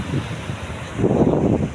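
Sea waves wash onto the shore under gusty wind buffeting the microphone, a broad rushing roar that swells louder in the second half, with no voices.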